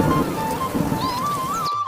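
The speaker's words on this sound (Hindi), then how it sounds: "तब तक खूब जोरदार बारिश होने लगती है। बारिश के साथ हवा भी चलने लगती है।" Heavy rain with wind in a Hindi cartoon story, a dense, loud, continuous hiss of pouring water with thin tonal whistles over it before an abrupt cutoff.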